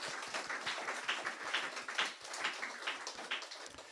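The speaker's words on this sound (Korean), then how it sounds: "우리 형제님 환영의 박수 드립니다." A church congregation at a Sunday service claps to welcome a brother joining online, with quiet, fairly quick scattered clapping that keeps going for several seconds, faint and a little distant.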